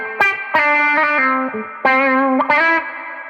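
Electric guitar through an envelope filter pedal with overdrive in front, a series of funky plucked notes and short chords, each with a quacky filter sweep and gritty drive, played alone in a loose rhythm.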